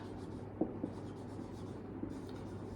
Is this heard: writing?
yes